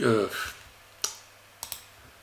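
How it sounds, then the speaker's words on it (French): Several sharp computer mouse clicks during 3D modeling work in Blender, spaced irregularly after a brief stretch of French speech, quiet and close. "Ensuite, on clique un clic droit sur le"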